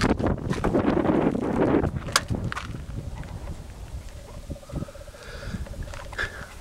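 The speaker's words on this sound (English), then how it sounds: "It's nice and windy up here." Wind buffets the microphone in gusts at a high lookout on Scenic Loop above Walla Walla, loud rushing at first and then easing into a softer, fluttering background with a few light knocks.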